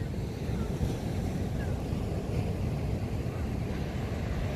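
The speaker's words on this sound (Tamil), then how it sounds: "ரொம்ப ஆபத்தான கடற்கரை குளிப்பதற்கு. ஏன்னா அலைகள் அப்படி அடிக்குது." Rough ocean waves pound the shore at Tharangambadi beach by the old fort, a dense, continuous roar of surf mixed with heavy wind buffeting the microphone.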